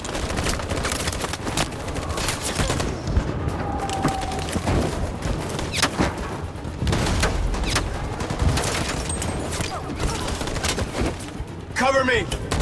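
Sustained gunfire in the video game Detroit: Become Human, a dense fusillade of shots and bursts filling the whole stretch, loud and continuous with other battle noise.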